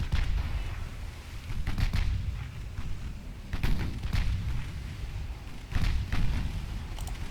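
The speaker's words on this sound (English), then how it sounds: "Here's the 4 6-inch guns absolutely doing work today." Six-inch secondary naval guns firing in the Ultimate Admiral Dreadnoughts naval battle game: a steady barrage of heavy booming shots overlapping into a continuous rumble, with louder reports every second or so and no voices.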